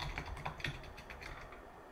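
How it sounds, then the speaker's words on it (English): Password typed on a computer keyboard, a quick run of soft, close key clicks at a steady pace, faint and with no talk. "So you just have to type in your password from there."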